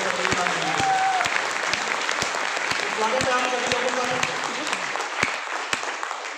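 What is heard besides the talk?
loud audience applause at a business seminar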